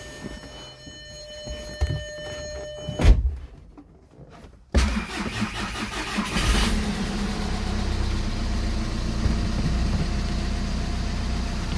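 A diesel Audi A3 8P 2.0 TDI is cranked after a timing belt job and fires into a loud, steady close idle that runs on evenly to the end.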